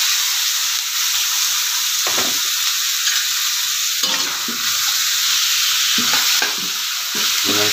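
Chicken pieces go into a pot for tinola, a Filipino chicken soup with chayote and malunggay, and fry with a steady close hiss and sizzle while a spoon scrapes and stirs at intervals.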